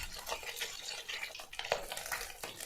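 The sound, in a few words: fish frying in oil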